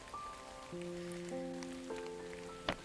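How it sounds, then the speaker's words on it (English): Soft raindrops in the video game Paper Trail, a faint patter under sustained musical tones, with a sharp brief tap near the end. "I awoke to the cool touch of raindrops on my face."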